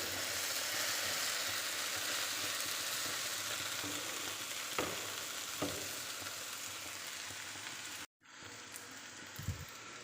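Tender okra bhaji cooks in a pan with a steady, fairly quiet sizzle throughout, a few light clicks of stirring, then a brief break and some soft knocks near the end; nobody speaks.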